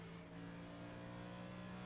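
Race car engine in a NASCAR-style racing video game at Nashville Superspeedway, a steady droning motor hum with sustained tonal whine, fairly loud and continuous throughout with no talk.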